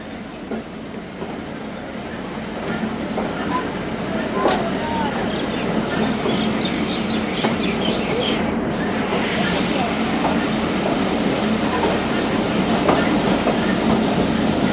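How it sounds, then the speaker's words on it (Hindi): A passenger train (Thal Express) departs Bakhar railway station with a steady, heavy rumble and rhythmic clatter of wheels on track, loud and continuous, gradually building. "ट्रेन रवाना हो रही है बखर रेलवे स्टेशन से"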